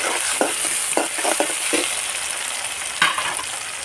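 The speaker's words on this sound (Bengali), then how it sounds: "একটু লাল হয়ে গেছে, আমি এবার টমেটোটা দিয়ে দিচ্ছি।" Tomatoes tipped into a pan of two large chopped onions frying until reddish-brown, giving a steady hiss of sizzling with several short wet bursts and scrapes as the pieces hit the hot oil and are stirred.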